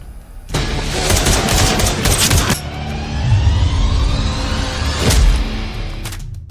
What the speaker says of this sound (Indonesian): di saat itulah baku tembak antara keduanya terjadi